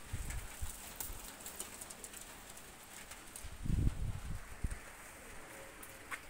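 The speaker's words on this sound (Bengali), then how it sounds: "দুইটা কবুতর আমি ছেড়ে দেখাচ্ছি" A pair of Oman Teddy pigeons let go on a windy, overcast day, giving a faint flutter of wings with a brief louder burst of flapping midway over low outdoor rumble.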